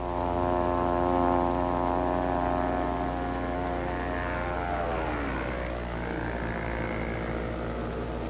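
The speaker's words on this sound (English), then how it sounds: "a radio-controlled target drone plane" A radio-controlled target drone plane used for naval gunnery practice drones steadily overhead, its propeller engine holding a continuous buzzing tone that shifts pitch midway as it passes, fairly loud and with no voices.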